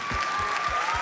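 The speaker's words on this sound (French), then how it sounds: "Est-ce qu'on a juste une dernière main d'applaudissement à Dieu Saint-Esprit ce matin?" Applause from a church congregation during a French-language service, a dense steady patter of many hands that fills the whole short moment at moderate loudness.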